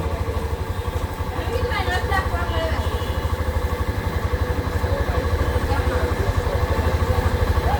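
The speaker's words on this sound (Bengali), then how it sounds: "এই তো এখন আমরা বাইকটি চালু করলাম" A Hero Xtreme 125 motorcycle with a fault that makes it stall while riding idles steadily after starting, with a low, even engine throb that stays close and continuous under background noise.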